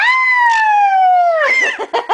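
Loud, close, shrill sustained squawk from a sun conure parrot sliding slowly downward in pitch, followed by a burst of shorter harsh chirps and calls.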